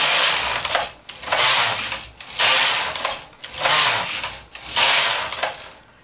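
A knitting machine carriage swept back and forth knitting plain rows, five rhythmic whooshing, rattling passes about a second apart, close and loud with no speech.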